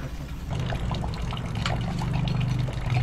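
Water drains from a tank in a steady close trickle and splash, with irregular gurgles and drips over a low rumbling background.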